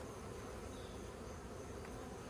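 Aggressive honey bees drone in a dense, continuous buzz during a hive inspection, a steady, faint swarm sound with no pauses or voices.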